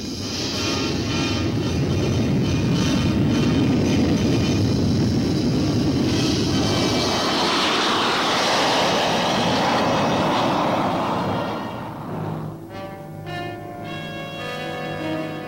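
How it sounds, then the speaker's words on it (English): A U-2 reconnaissance jet on its takeoff roll roars loud and broad, its engine noise swelling and then thinning out as it pulls away, leaving fainter tonal rumble at the end. "Note that on the takeoff roll, the outrigged gear drop off as the plane picks up speed."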